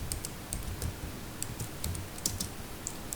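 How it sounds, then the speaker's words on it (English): Typing on a computer keyboard while writing a Fibonacci series program in C: steady, quiet, irregular key clicks run through the whole stretch with no talk. "simply I delete this message and I write here this program"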